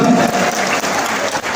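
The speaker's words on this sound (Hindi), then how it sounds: "आदरणीय प्रदीप मिश्रा जी के लिए जोरदार तालियां बजा करके स्वागत अभिनंदन।" Audience applause at a Shiv Mahapuran katha religious discourse welcoming Pandit Pradeep Mishra, a loud, dense wash of clapping held steady through the short moment with no talk.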